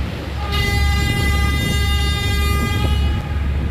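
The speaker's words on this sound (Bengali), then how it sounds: "আওলাদ দশ হর্ন দিয়ে বুঝাই দিল আমারে সাইড দিও" The passenger launch Prince Awlad 10 sounds a loud, steady horn for nearly three seconds, a single sustained blast over engine and water rumble on a river.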